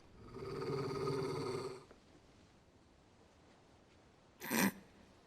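Torgal, a wolf in Final Fantasy XVI, lets out a low, drawn-out rumbling growl lasting nearly two seconds, then falls quiet before a short sharp snort or huff near the end.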